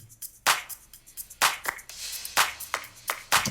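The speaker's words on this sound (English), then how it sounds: "And then a clap loop." Sampled clap loop from the Slate Digital Seismic Vol. 2 pack, playing alone as a crisp, dry rhythmic pattern of sharp handclaps with some quicker flams between the main hits, up close and loud.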